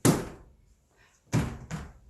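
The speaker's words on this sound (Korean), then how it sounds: "공주가 문을 쾅 하고 세게 닫았어요." A storybook sound effect of a door slamming shut, three hard wooden thuds: one loud slam, a pause, then two more slams in quick succession, close and alone.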